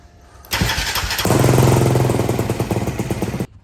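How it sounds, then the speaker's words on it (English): A Can-Am DS450 engine cranks over slowly with a weak starter, a loud steady churning that rises in strength partway through before stopping abruptly, with no talk. "So we're still dealing with the slow cranking issue."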